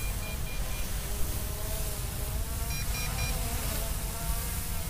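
A BUGS 3 PRO FPV drone descends with a steady, fairly loud propeller buzz that drones on continuously and evenly throughout, with faint high tonal beeps over it and no talking.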